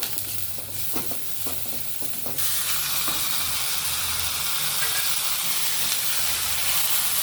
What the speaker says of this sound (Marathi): आता ही मटकी कांद्यामध्ये परतून घ्यायची